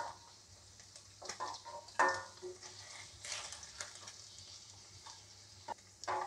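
Paneer pieces frying in oil in a pan, a soft, steady sizzle with light stirring scrapes and occasional sharper clicks and pops, close and fairly quiet, with no talking.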